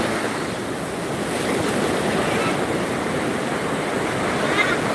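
High-tide sea waves at a tourist beach in Trenggalek rush and wash continuously in a loud, close surf roar, with wind buffeting the microphone.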